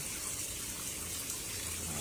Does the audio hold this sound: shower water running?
yes